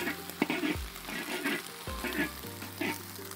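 Egg fried rice sizzles steadily in a wok in a Chinese village kitchen, with a loud continuous frying hiss broken by bursts of clattering and stirring as ingredients are tossed in.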